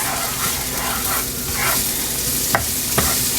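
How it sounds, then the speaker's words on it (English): Peppers and onions sauté in a couple of tablespoons of leftover fish grease, a steady close sizzle broken by a few sharp clinks of a utensil stirring against the pan, with no talking. "So we sauteing our peppers and onions and so in some old fish grease."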